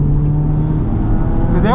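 Race car engine held at steady high revs on a track, a loud sustained drone with a tonal hum throughout, while a driving instructor talks over it.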